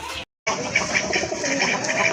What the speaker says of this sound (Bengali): এই যে দেখেন আরেক জোড়া কবুতর